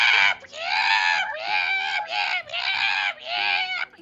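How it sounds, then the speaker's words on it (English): A series of five or six harsh, strained screams of pain, close and loud, each lasting about half a second with brief gaps between them, used as a tabletop-game sound effect, over a faint low background tone. "screams of pain coming from the side."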